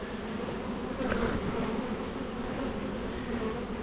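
Honey bees hum around an open Langstroth hive during an inspection, a close, continuous buzz that stays steady and fills the whole stretch, with no speech over it.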